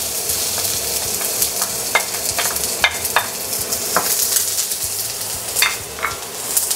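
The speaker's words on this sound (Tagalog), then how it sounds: "let's saute our onion and garlic" Onion and garlic sautéing over low to medium heat for pineapple chicken, a dense, loud sizzle with short scraping and clinking stirring sounds, close and continuous, no talking.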